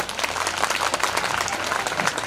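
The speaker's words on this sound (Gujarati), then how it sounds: "યાદ અપાવી દઉં, તાળી પાડો." An audience at an education event applauds, a dense, steady burst of many hands clapping together, fairly close and loud, with faint voices mixed into the crowd noise.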